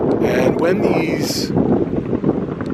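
Gusty wind of around 20 mph at the Woolsey Fire wildfire in California, buffeting the microphone as a steady rumbling roar beneath someone talking throughout.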